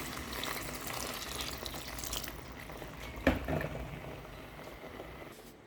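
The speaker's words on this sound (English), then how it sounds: "Now I will be adding my water." Water poured into a pot while cooking vegetable Indomie noodles, a soft, steady splashing and trickling with one sharper clink or splash midway, fading near the end, quiet and close with no talking.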